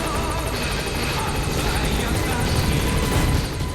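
Damaged helicopter in the video game Metal Gear Solid V, its rotor chop a steady loud rhythmic beat over engine rumble throughout, with a voice talking underneath.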